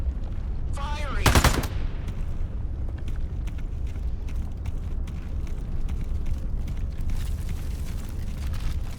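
Gunfire in Into the Radius 2, Ghost Town area: one loud close burst near the start, then scattered sharp shots and clicks over a steady background rumble.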